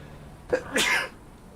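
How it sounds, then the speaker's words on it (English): Two quick sneezes in a row, the second louder and longer than the first, close to the listener in a quiet room. "I usually have a double sneeze"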